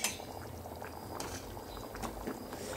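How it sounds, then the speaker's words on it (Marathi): Amti, a lentil curry, bubbles at a steady boil in a half-covered pot on low heat, a continuous soft burbling close by with a few faint clinks and no talking. "हे पहा आमट्याला चांगली उकळी आली"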